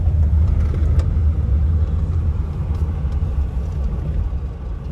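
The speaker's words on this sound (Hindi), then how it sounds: "ये फिर बंद पड़ रही है, बंद पड़ रही है, बंद पड़ गई, देख रहे हो" A Maruti 800 car engine struggles and loses power, giving a heavy, steady low rumble that weakens slightly toward the end, close and loud with no talking.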